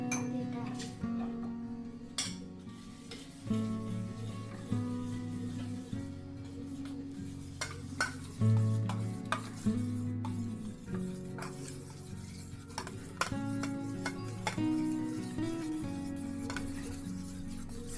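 A child beats eggs with salt in a bowl for an omelet, the utensil scraping and clinking steadily against the dish in repeated strokes while people talk over it.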